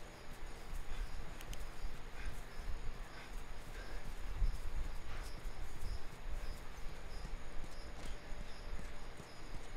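Horse hooves clip-clop at a steady walking pace in The Last of Us Remastered on PS4, an even rhythm of moderate loudness over a low outdoor ambience.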